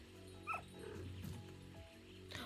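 Dogs barking and yipping in the dog world of the Roblox game Pet Simulator X, a short game-sound bark near the start followed by softer dog noises over background game music.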